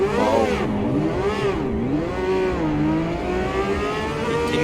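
A race car engine in Automobilista 2 revs and accelerates as it drives out of the pit lane, with rising and falling engine pitch through several gear changes, loud and close with no talking.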